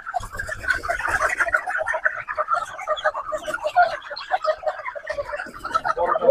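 Broiler chickens cluck and chatter in a crowded shed, a busy, continuous flock noise close by, with voices talking softly in the background.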